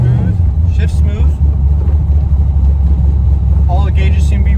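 A 1976 Chevrolet Corvette engine rumbles steadily from inside the cabin while driving, with a low continuous drone and a voice speaking over it.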